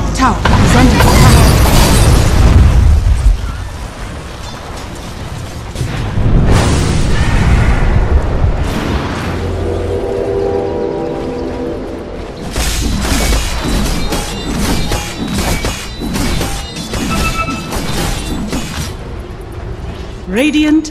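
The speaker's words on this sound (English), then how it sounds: "Dire's top tower is under attack." Explosions and crashing impacts from a tower under attack in the video game Dota 2, loud bursts at the start and again around seven seconds, followed by layered game sounds and music.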